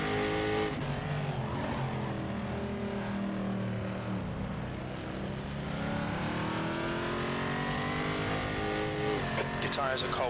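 A race car in an Assetto Corsa sim race at Calabogie revs steadily, its engine pitch rising and falling while cold tyres squeal as the car slides. A voice talks over the engine throughout.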